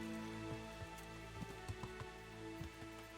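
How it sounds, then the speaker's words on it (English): Rain in the medieval video game Kingdom Come: Deliverance, quiet patter with scattered soft droplet ticks over a steady hum of tonal game ambience, no talking. "it's raining as well"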